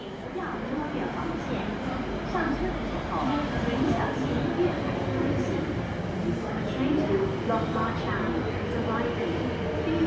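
A train at Sha Tin Station platform gives a loud, steady rumble and roar that runs without break, with a busy mix of station noise and crowd voices underneath.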